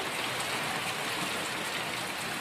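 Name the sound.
monsoon rain falling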